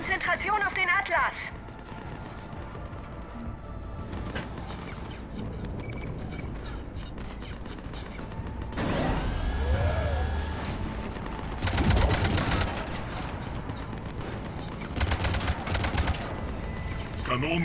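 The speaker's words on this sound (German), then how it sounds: "Kanonen feuern." Heavy cannons firing during a Mass Effect 3 battle for Omega, with repeated loud booming blasts and bursts of gunfire over a dense battle din, and voices speaking in between.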